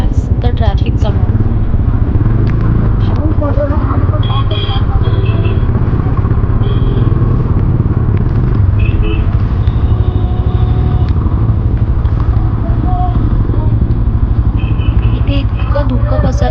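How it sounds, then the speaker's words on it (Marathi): Motorcycles and cars travel a foggy monsoon road on Tamhini Ghat, heard as a loud, steady engine rumble with clattering that carries unbroken through the whole stretch, as if recorded from a bike on the move. "सॅटर्डे संडे सुट्टी असल्या कारणाने इथे खूप जास्त ट्रॅफिक जमतो"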